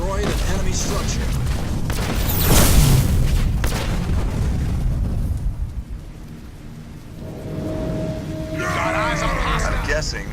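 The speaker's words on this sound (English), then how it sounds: "We destroyed an enemy structure." An enemy structure explodes in the Halo Wars 2 video game with a loud, rumbling boom that swells and fades, followed by lower battle ambience and a rising tonal game effect.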